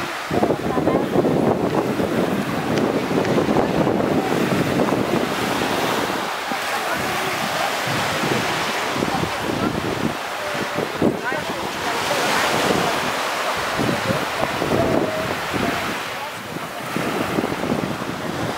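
Surf breaks on a long, clean beach at Negril, Jamaica, with a loud continuous wash of waves under heavy wind buffeting the microphone, steady throughout with gentle swells in intensity.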